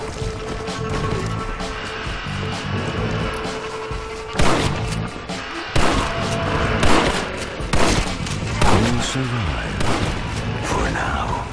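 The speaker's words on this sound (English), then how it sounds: "You almost don't even need the auto lock. Because There's so many of them, you just shoot in the right direction and you'll hit some." Gunfire in Red Dead Redemption multiplayer's Undead Overrun mode, fired at hordes of undead: repeated sharp shots and crashing impacts crack out in uneven volleys over a busy game soundscape, with players talking throughout.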